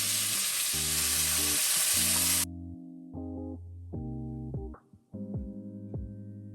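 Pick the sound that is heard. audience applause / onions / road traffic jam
onions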